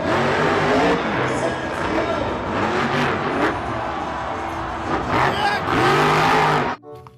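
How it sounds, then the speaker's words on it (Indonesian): A toy monster truck plays an electronic engine sound effect, with revving roars that rise and fall, a crowd-like roar and squealing bursts, loud and close before cutting off abruptly. "ada mobil truk monster."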